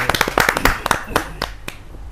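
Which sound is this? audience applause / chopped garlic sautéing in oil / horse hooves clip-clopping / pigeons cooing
audience applause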